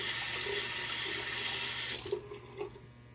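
Tap water runs in a steady, close rush while a safety razor is prepared for shaving, then is shut off about two thirds through, leaving a few small drips and clinks.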